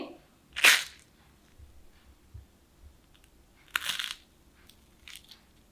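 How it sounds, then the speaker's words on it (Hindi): Someone bites into a crisp fried fasting snack made without soaking sabudana or using potato. A few sharp, loud crunches ring out with quieter chewing between them and no speech. "देखिए कितने क्रिस्प है और बहुत ही कुरकुरे।"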